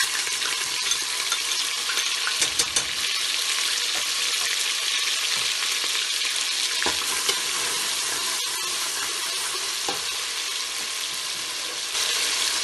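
Steady, loud sizzling of onion, garlic and ginger frying in hot oil with whole garam masala, occasional stirring clicks and scrapes, continuous throughout with no talking.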